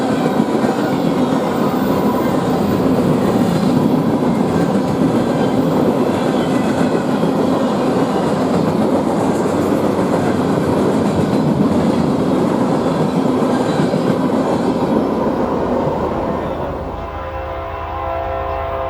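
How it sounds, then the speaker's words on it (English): An empty BNSF maintenance-of-way train rolls past on the Marceline Subdivision at La Plata, Missouri, a loud, steady rumble and clatter of cars that holds for most of the pass, then drops away near the end. "BNSF had one more planned for us before letting the Chief through in the form of this empty MOW train."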